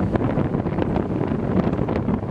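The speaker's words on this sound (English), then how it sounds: "it is windy" Gusty wind buffets the microphone on a deck overlooking the Emerald Coast beach at a Miramar Beach wedding, a loud rough rumble throughout with no voices.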